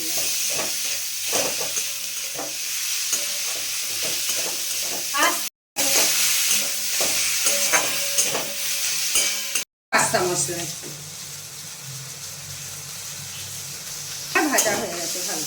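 Tomatoes and mixed vegetables frying on low heat in a pan, a continuous sizzle with stirring clinks and scrapes, briefly cut by two short gaps, while a voice speaks a word.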